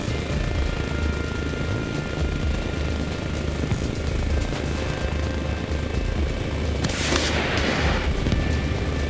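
Helicopter in the video game Arma Reforger flying steadily, a loud continuous rotor and engine drone with low thumping filling the whole stretch, plus a brief louder rushing swell near the end.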